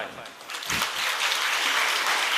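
Audience applause at the opening of a school science exhibition, steady dense clapping that builds after a brief dip and holds loud to the end.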